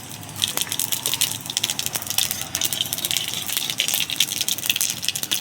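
Cumin seeds hitting hot oil in a pan as the tempering for a spicy small-fish curry begins, a close, steady crackling sizzle with popping spatters throughout.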